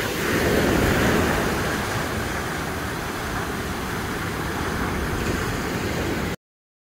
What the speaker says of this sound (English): we'll let you guys enjoy the waves.